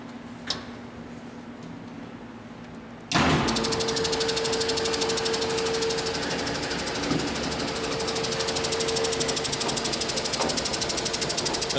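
A DOALL 2613-2 vertical band saw starts running after its transmission is shifted, a sharp clunk giving way to a steady mechanical whir with a rapid, even ticking pulse that continues to the end.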